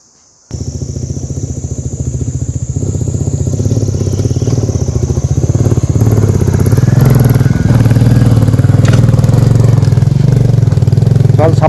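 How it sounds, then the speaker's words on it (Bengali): A motorcycle climbs a steep, broken, boulder-strewn mountain road toward Sandakphu. Its engine kicks in loud and close after a short silence, then drones and revs steadily with rattling throughout. "যে একটানা বাইক চালাতে অ্যাক্সিলেটার চেপে ধরে রাখতে আমাদের হাত পুরো"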